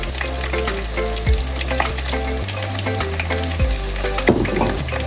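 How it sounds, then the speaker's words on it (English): Chicken for fricassee fries in hot oil in a home kitchen, a steady close sizzle with a few sharper spatters and stirring bumps, no voices. "while our chicken is frying"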